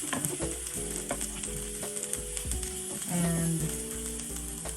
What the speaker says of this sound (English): You have to fry it a bit.